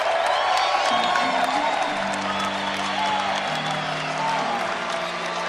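Packed crowd cheering and applauding inside the Sanford Pentagon during the final minute of a Skyforce D-League basketball game, a loud continuous roar with sustained tones running through it and an announcer talking over the top.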